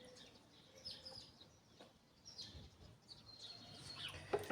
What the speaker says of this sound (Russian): Несмотря на пасмурную погоду, щебетание птиц не утихает.